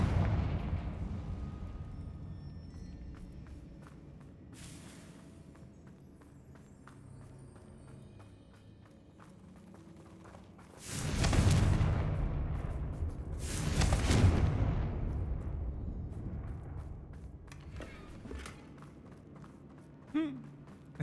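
Blasting-spell explosions from the video game Hogwarts Legacy, two loud bursting blasts a few seconds apart rising over a low, busy game soundscape, followed later by a short sharp pop.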